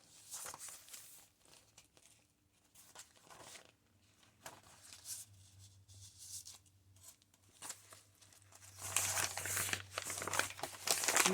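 Crinkly paper for a forest-themed junk journal being handled and rustled up close, soft irregular crackles and crunches that build louder toward the end, with no talking.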